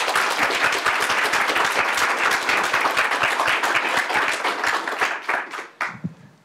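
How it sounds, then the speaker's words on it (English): Audience applause at a talk on emotional intelligence in product work, with dense sustained clapping that fills the room at an even level before thinning into a few scattered claps and fading out at the end. "So another round of applause for Kate."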